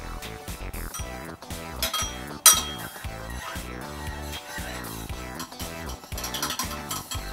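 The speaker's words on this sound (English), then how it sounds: "Stir it up." A spoon stirs homemade Greek dressing in a bowl, giving soft, irregular clinks and scrapes against the dish at low volume, with one sharper clink partway through.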